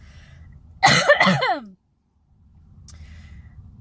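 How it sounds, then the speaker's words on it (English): A single close burst of coughing, about a second long, breaking a quiet background hum, followed by a short silence. "I don't know why I'm coughing so much"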